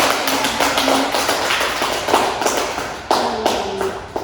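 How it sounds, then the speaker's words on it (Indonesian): Classroom applause from a group of students, a steady patter of many hands clapping nearby for a few seconds. "Kita kasih aplaus dulu."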